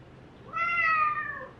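A cat gives a single loud, drawn-out meow, rising then falling, heard up close in a quiet indoor room.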